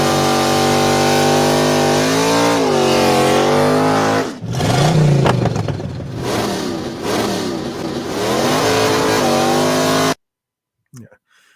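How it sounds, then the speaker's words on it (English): A toy car's electronic sound effect revs its engine loudly and continuously, with rising and falling whines over about ten seconds before it cuts off abruptly, followed by a faint noise. "Sound effects for the car is really good."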